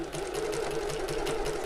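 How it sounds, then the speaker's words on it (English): A sewing machine runs a straight seam on a tote bag at a regular stitch length, its needle chattering in a fast, even rhythm over a low motor hum, close and continuous. "We're sewing at 1/8 of an inch away from the edge, or 3mm, my regular stitch length."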